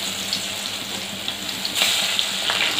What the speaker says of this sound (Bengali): প্রথমে আমি থুরের কড়িটা ভেজে নিচ্ছি